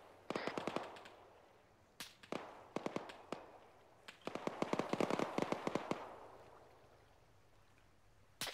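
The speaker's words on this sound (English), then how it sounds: "Tracer fire left." Bursts of tracer gunfire in the military game ArmA 3 crack out in rapid clusters, some shots sharp and close, others in longer automatic strings, with gaps of quiet between.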